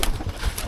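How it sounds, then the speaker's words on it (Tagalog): Pigeons coo softly on a farm amid a dense, noisy background, the low throaty calls overlapping close by. "Bali yan yung mga kalapati"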